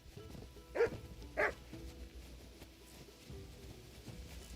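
Two short dog barks about half a second apart in a medieval-village game world, mid-level and fairly close, followed by quiet background ambience.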